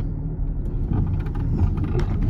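A car engine runs steadily as the vehicle drives, a continuous low rumble with road noise, close and fairly loud without any talking.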